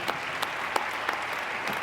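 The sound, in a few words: audience applause at a debate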